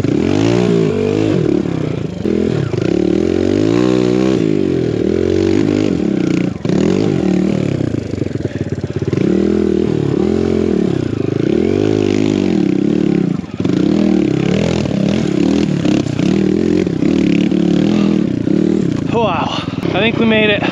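An enduro motorcycle climbs an off-road course on "The Suffering" enduro trail, its engine revving up and down in repeated surges, loud and close throughout with clattering over rough ground.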